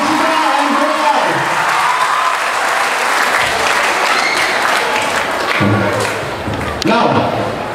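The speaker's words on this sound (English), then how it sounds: "Can you give once again a big round of applause for both of them?" A crowd applauds at a school freshers day, dense continuous clapping that fills the room, loud and sustained with a few thumps and faint cheers.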